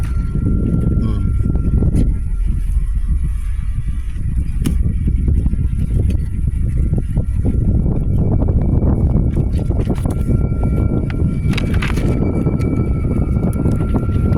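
Outdoor wind buffeting the microphone, a constant loud low roar with gusty rumbling throughout, with faint voices briefly audible.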